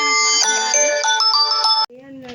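A phone rings with an incoming call, a bright repeating melodic ringtone that plays loudly and steadily, then cuts off abruptly before a short, quieter tone follows.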